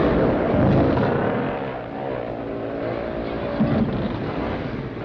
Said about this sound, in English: Those extra grip tires help to pull the bikes up the hills and over the top.